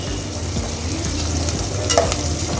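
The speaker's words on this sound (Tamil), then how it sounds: "இப்போ இந்த வெங்காயம் பச்சை மிளகாய் எல்லாம் நல்லா வதங்கிடுச்சு" Onions and green chilies sauté in a pan for a cuttlefish milk curry, giving a steady, close sizzle broken by repeated stirring scrapes, with no talking.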